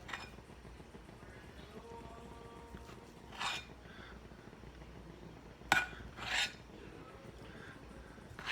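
Chicken and dumplings cooking: dumpling dough scraped from a big spoon into a pot of chicken, a few soft rasping scrapes and metal clinks against a quiet simmering background.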